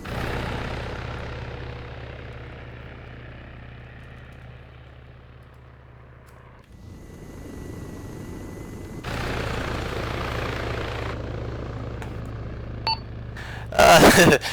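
A military helicopter in a flight-training video game, its rotor and engine droning steadily and loudly, dropping away briefly midway before the noise rises again, with a burst of clatter near the end.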